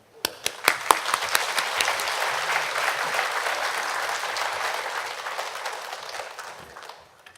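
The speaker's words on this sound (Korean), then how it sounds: "환영과 감사의 박수로 앞으로 모시겠습니다" A congregation at a Korean church's early-morning revival service applauds to welcome a pastor to the front. A few separate claps grow into a sustained, even round of applause that fades away near the end.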